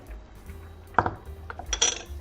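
A metal teaspoon clinks against a pot while salt and spices go into a spelt pilaf, with a sharp tap followed by a short cluster of light metallic clinks and rattles.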